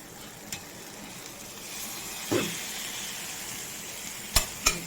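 Small pieces of chicken tandoori cooking in a pan: a quiet, steady sizzle with a few sharp clinks and scrapes of utensils against the pan, two close together near the end, no speech.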